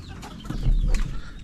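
Chickens cluck briefly and fairly close in a farm setting, a short burst of fowl calls with no talk over it.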